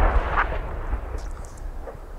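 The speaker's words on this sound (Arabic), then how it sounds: "قصف صاروخي عنيف على مدينة اللطامنة بريف حماة الشمالي" Heavy rocket shelling on the town of Al-Lataminah in rural northern Hama, heard as deep rumbling booms and a low roar, distant and muffled, with no voices over them.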